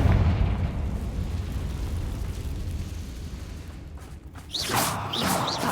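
A Confringo fire blast spell from the video game Hogwarts Legacy bursts with a whooshing boom after a stretch of low rumbling ambience, followed by brief bright crackles.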